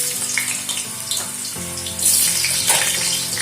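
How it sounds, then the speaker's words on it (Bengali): Carrots frying in white oil in a wok make a soft hiss that swells louder about halfway through, over a steady tonal background. "সবার প্রথমে গাজরগুলো ভেজে নিচ্ছি।"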